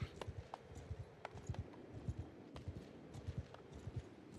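Windlands Palfrey horse in the Old Realms mod, quick rhythmic hoofbeats clip-clopping at a steady riding pace, fairly close and faint, with no talk.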